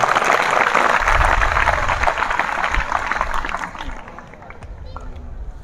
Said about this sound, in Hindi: इन सभी वैज्ञानिकों के लिए एक बार पुनः जोरदार ताली।